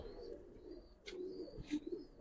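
Old-breed Giribaz pigeons coo faintly in low murmurs, with a thin high whistle-like tone drifting in and out and two brief bursts of flutter, all quiet and close.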